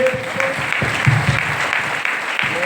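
Applause from an audience at a DXN training meeting in a resort hall, a steady wash of many hands clapping together, fairly loud and even, with murmured voices underneath.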